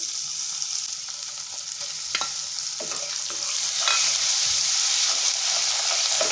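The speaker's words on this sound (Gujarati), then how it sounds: "ધીમા તાપે જ બધી જ પેસ્ટ આપણે અહીંયા સાતરીશું આદુ લસણ મરચાં" Ginger, garlic and chili paste sautéing over low heat in a pan with dry spices, a continuous bright sizzle with scattered spatula scrapes and taps, growing slightly louder toward the end.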